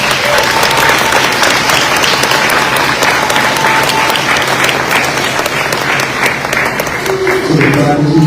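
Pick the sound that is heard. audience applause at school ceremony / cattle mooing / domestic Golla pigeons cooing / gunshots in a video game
audience applause at school ceremony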